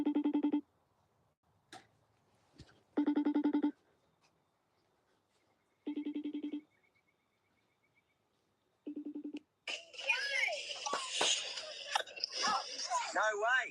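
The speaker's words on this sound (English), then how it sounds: "It's ringing." A FaceTime call rings out in repeated electronic tone bursts with pauses between them, fairly loud and clear, before chatter and noise from the answered call take over.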